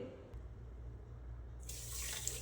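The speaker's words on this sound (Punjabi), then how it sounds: "ਇਹੀ ਕੋਲੀ ਆਪਾਂ ਅੱਧੀ ਇਹਦੇ ਵਿੱਚ ਪਾਣੀ ਦੀ ਪਾਵਾਂਗੇ" Water poured into a cooking pot for sugar syrup, a soft steady stream that starts quietly then turns into a brighter, louder splashing pour near the end, with no voices.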